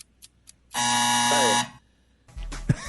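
A harsh electronic game show buzzer blares once for nearly a second during a morning radio trivia segment, loud and flat-toned, followed by a brief burst of studio noise.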